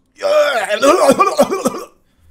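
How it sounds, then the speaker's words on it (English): A short burst of harsh, strained throat sounds, like someone coughing and gagging, rising then stopping abruptly, close and fairly loud, from a horror movie. "He starts coughing and choking."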